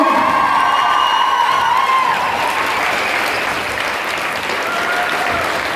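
Steady, loud applause from a pilgrimage group of high-school graduates, dense clapping with faint cheers mixed in, continuing evenly throughout without pause.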